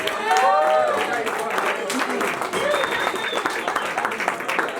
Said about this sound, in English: Let's give another round of applause for Ozzy.